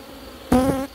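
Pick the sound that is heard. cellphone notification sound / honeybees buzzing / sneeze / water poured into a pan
honeybees buzzing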